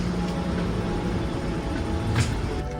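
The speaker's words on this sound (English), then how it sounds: "Train arriving." An airport terminal shuttle train pulls in between the A and D gates, a steady low rumble and whine of the railcar carrying on throughout, close and continuous with no talk over it.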